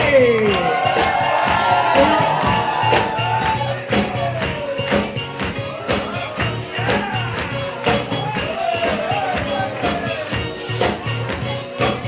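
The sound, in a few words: wedding guests clapping and cheering for the groom's parents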